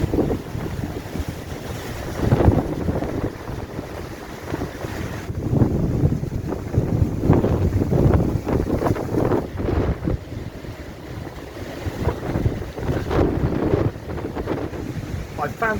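Strong gale gusting across a Spanish beach, a steady loud roar of wind buffeting the microphone with surging, uneven blasts throughout.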